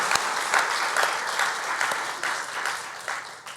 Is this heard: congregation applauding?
yes